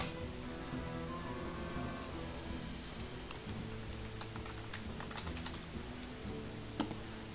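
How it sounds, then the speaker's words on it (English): Keys on a computer keyboard clatter during a Hearthstone Druid-versus-Mage match, a scatter of quick, light clicks that sharpen near the end, sitting under steady game music with no talking. "The typing."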